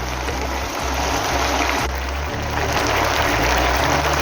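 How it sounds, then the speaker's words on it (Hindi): Soy sauce, three tablespoons, poured into a pan while making spring rolls; a steady broadband trickling, sizzling wash runs continuously throughout, fairly loud with no talk. "अब हम इसमें सोया सॉस डालेंगे 3 टेबलस्पून।"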